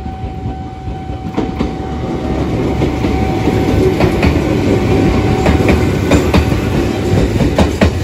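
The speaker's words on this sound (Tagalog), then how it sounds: "Ito, ayan yung train. Dadaan na." A train rolls past at a railway station in Fukui, Japan, on a JR or Hapi-Line service, a steady loud rumble with clickety-clack wheel beats growing as it passes close by.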